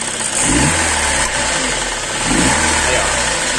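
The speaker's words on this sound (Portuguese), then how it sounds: "Vou dar uma acelerada e automaticamente vai entrar o gás." A car engine running on CNG (natural gas) is revved to raise the RPM, giving a steady, loud mechanical drone with two brief surges, while someone talks over it.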